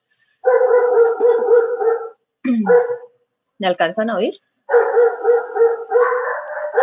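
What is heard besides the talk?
dogs barking on the street corner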